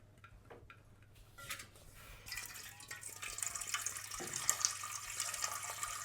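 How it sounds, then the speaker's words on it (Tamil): Tap water runs into a metal pot for cooking pasta, the splashing growing louder and brighter as it fills, with faint ticks and drips at the start. "ஒரு பாத்திரத்தை எடுத்துக்கின்னு லைட்டாக தண்ணி பிடிச்சிக்குவோம்"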